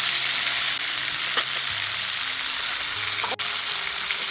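Ginger-garlic paste sizzles in hot oil for a village-style chicken curry, a steady close frying hiss with a few clinks of a utensil against the pan.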